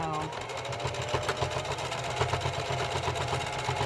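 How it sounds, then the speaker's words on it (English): A sewing machine runs steadily while back-stitching back and forth over elastic on a fabric face mask, a close, continuous whirring hum with a rapid needle rhythm, and a voice talks over it. "I'm going to sew over the elastic multiple times using my back stitch"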